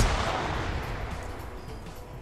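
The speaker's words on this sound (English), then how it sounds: "Legend coming around, throwing some wild grenades. Those are V40s." Grenade blasts from V40 grenades in a multiplayer PvP shooter game rumble loudly right from the start, a dense, heavy low-end roar of explosions and gunfire that fades slightly over a couple of seconds.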